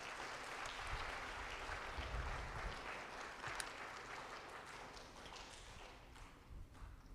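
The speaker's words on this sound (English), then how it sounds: "Give Madhuri another round of applause," An audience applauds after a Bharatanatyam Tilana at a dance arangetram, a steady dense clapping that holds at an even level throughout, heard from within the hall.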